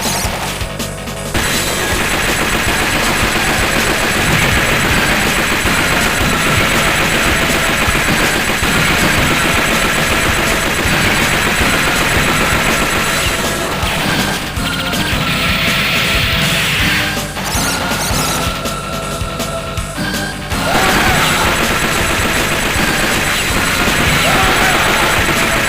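Continuous rapid heavy machine gun fire in the Metal Slug X arcade game, dense and loud throughout, with brief shifts in tone and explosive crashes mixed in and no talking.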